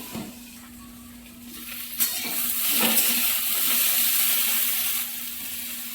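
Vegetables frying in a covered pan hiss and crackle, swelling into a steady, fairly loud sizzle with a brief clatter along the way.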